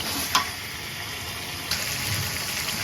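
Jackfruit seeds and dried fish are stir-fried in spices in a pan, giving a soft, continuous sizzle with a couple of brief clinks from stirring, fairly quiet.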